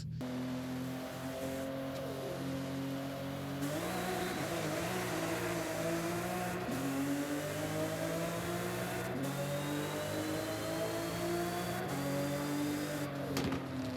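A modded Toyota Supra with a turbo engine in Forza Horizon 5 revs and pulls hard through the gears, its loud harmonic drone rising and dropping with each shift, close and steady throughout.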